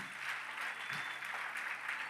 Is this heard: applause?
yes